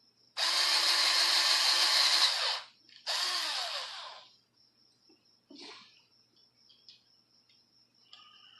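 Power drill driving a screw through a homemade catfishing bobber: a close, steady whir of about two seconds, a short pause, then a second burst of about one second, followed by quiet with faint handling noises.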